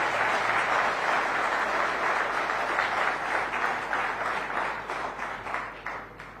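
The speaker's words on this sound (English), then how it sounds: "Please give him a round of applause." An audience at a summit applauds the Prime Minister, a dense, steady roar of clapping that fills the room and slowly thins toward the end.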